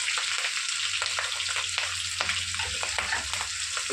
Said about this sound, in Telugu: ఉల్లిగడ్డ కూడా కొంచెం ఫ్రై అవనిద్దాము